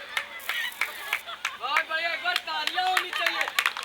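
Audience at a poetry event in Lucknow clapping in short, scattered bursts, fairly quiet, with someone speaking over it.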